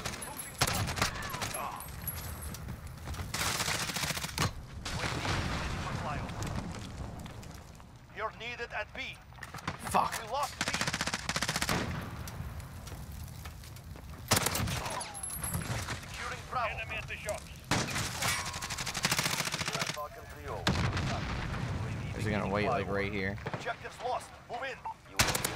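Bursts of rapid gunfire, including AK-74u fire, from a first-person shooter game on a Domination-style map, loud and repeated in clusters, with players talking over the shooting.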